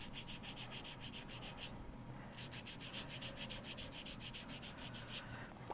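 Phoenix silver clay drop earrings are wet sanded with ultra fine abrasive, a close, soft rhythmic rasping of quick back-and-forth strokes that pause briefly near two seconds and then resume at an even pace.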